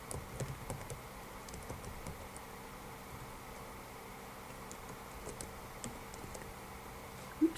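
Computer keyboard typing while entering lines of code, a faint, irregular patter of light key taps over a steady low hum, ending with one sharper, louder keystroke.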